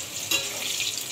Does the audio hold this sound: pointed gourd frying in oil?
yes